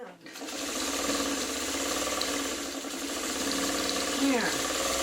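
A sewing machine stitches quilt blocks together into a quilt top, a close, continuous mechanical whirr and rapid needle chatter that runs steadily before winding down near the end.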